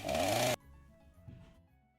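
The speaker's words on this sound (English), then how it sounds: "Put that chainsaw down!" A chainsaw revs loudly for about half a second in the Pokémon Teal video game, then cuts off abruptly, leaving faint low rumbling and quiet background game sound.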